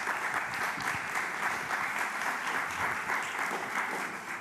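Steady, even applause from a press conference audience, a continuous wash of many hands clapping at moderate level with no break throughout.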